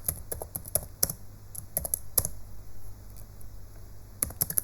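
Fast bursts of computer keyboard typing while Python code is written, clicks arriving in quick clusters separated by brief pauses, close and clear with no talking.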